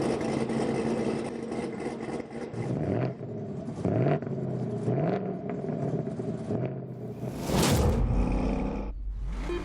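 A video game car engine revs and roars before a launch control start, rising and falling in pitch through several throttle blips with a loud, close, continuous drone and a sharp surge near the end.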